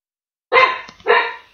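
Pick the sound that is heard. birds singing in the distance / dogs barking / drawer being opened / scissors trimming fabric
dogs barking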